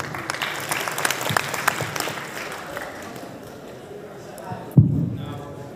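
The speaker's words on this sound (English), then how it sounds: "Please, a round of applause for them." Audience clapping at a swearing-in ceremony for a secretary general and a secretary for finance, a dense round of applause that fades over several seconds before a sharp thump near the end.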